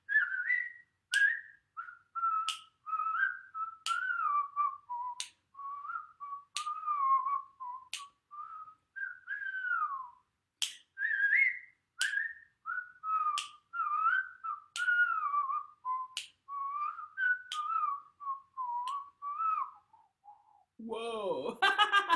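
Someone whistles a melodic tune alone, a long run of clear, near, moderately loud phrases with short gaps between notes, ending in a brief burst of voice.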